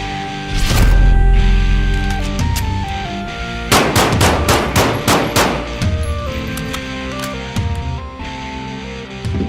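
A handgun fitted in a CAA Micro Roni chassis is fired at an outdoor range, with loud sharp shots, including a rapid string of several in quick succession, over a backing of music.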